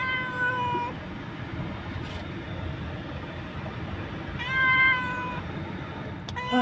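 An injured cat meows loudly and plaintively up close, two drawn-out cries separated by a few seconds, over a steady rumbling background.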